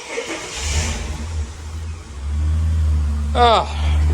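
A Ford AU Falcon fitted with a new exhaust idles with a deep low drone, then revs up sharply once near the end, rising and falling back to idle; a voice talks over the start.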